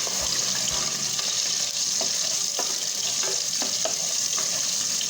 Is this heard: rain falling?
no